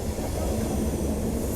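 An LHB coach of the Himachal Express rolls along the tracks out of Delhi, a continuous deep rumble of wheels and carriage noise heard from inside the train, steady and fairly loud.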